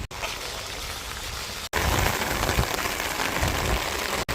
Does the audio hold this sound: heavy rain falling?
yes